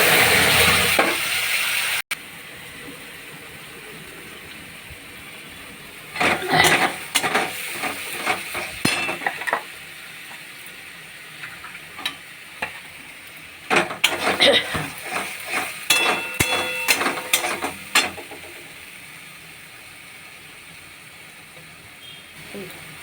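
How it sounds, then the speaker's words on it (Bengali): Soybean chunks and potatoes sizzle and fry in a pan with spice paste, interrupted by bursts of stirring and scraping from a utensil, close and moderately loud. "সোয়াবিন আলুটাকে দিয়ে কষাচ্ছি।"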